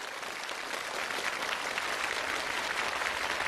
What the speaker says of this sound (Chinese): 掌声送给我们4位特殊的挑战助理